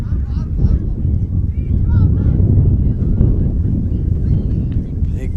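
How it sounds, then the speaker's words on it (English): Strong gust of wind buffets the microphone at an outdoor soccer stadium during a cold boys' high school match, a steady low rumbling roar that holds through the whole stretch. "Big gust of wind blowing through the stadium now."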